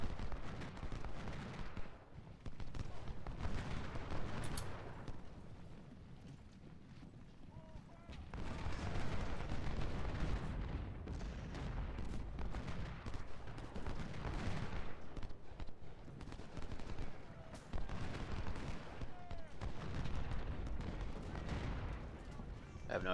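Grenadier infantry fire Springfield 1842 muskets in a Civil War battle game at Port Republic, with dense, rolling volleys and heavy booming reports layered into a continuous loud din of battle.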